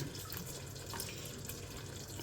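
Tamarind water poured into a cooking pot, a soft steady trickle and splash of liquid heard quietly and close, with no voices over it.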